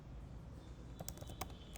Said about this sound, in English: And I'm typing here file name